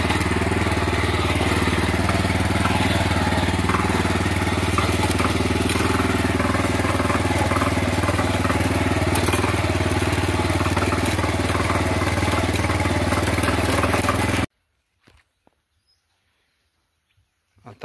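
A small farm tractor's engine chugs loudly and steadily while it creeps along in first gear, close by, then cuts off abruptly into near silence.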